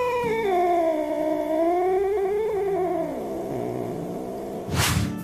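A domestic cat gives a sustained, wavering low yowl-growl, close and fairly loud, with pitch sliding down before a brief hiss-like burst near the end.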